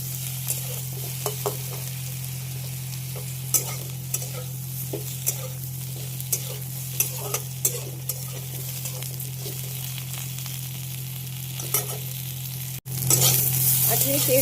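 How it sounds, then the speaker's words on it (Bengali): Pointed gourd (potol) pieces fry in hot oil in a pan, giving a steady, close sizzle with occasional spatula scrapes and clicks, plus a low constant hum and a sudden louder burst near the end. "এখানে পটলটা ভেজে নিচ্ছি"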